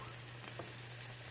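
An omelette fries in a pan with a faint, even sizzle, a low steady hum beneath it and a few soft ticks.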